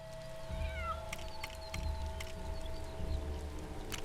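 A cat meows in the LEGO Marvel Superheroes 2 video game, a few short rising cries over a steady low game-ambience hum with faint sparkly effects.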